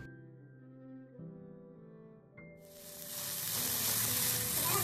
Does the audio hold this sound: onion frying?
yes